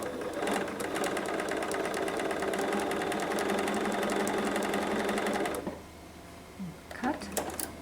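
A sewing machine stitches quilt binding in a fast, continuous run for about five seconds, then stops, followed by quieter handling noises and a few light clicks.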